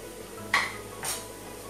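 A spoon stirs chicken masala and coriander powder into a pan of black chana roast, with two quick metallic scrapes against the pan and faint kitchen background.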